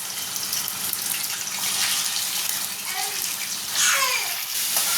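Chicken pieces hit hot sunflower and sesame oil for chicken chukka, setting off a loud, steady, hissing sizzle that swells briefly near the end.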